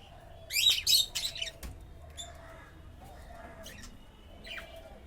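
Motherless young chicks chirp close by in a burst of sharp, high peeps, followed by scattered, fainter cheeps against a quiet background.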